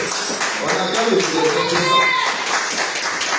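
A church congregation at a French-language Pentecost service applauds in steady rhythmic clapping, a dense, continuous patter of many hands filling the room, with voices mingling beneath.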